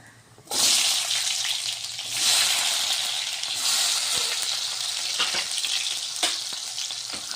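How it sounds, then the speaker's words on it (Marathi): Sliced onion hits hot oil with cumin seeds, bursting into a loud sizzle that then settles into a steady frying hiss with occasional stirring scrapes. "आता तेल गरम झालेलं आहे आता यामध्ये जिरं टाकलेलं आहे इथे मी दोन कांदे घेतलेले आहे कापून हा कांदा टाकायचा"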